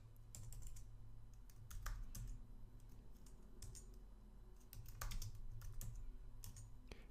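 Typing on a computer keyboard while entering a Linux terminal command: irregular bursts of close, crisp key clicks with a few louder strokes, steady low hum beneath, no talking.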